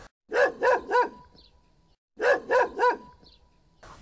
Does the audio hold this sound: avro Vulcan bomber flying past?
no